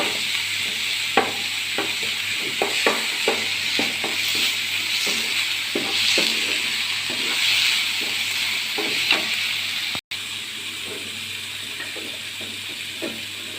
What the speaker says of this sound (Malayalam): തക്കാളി ക്യാപ്സിക്കം ഒന്ന് വാടട്ടെ. ഇതിൻ്റെ ഒപ്പം തന്നെ ഇത്രയും ഇഞ്ചി വെളുത്തുള്ളി പേസ്റ്റ് ചേർത്ത് കൊടുക്കുന്നുണ്ട്.